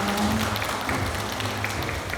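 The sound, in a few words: audience applause at a press conference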